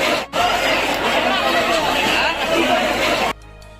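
Dense crowd chatter on an Indian train station platform, a steady loud babble of many voices that holds for several seconds before cutting off abruptly.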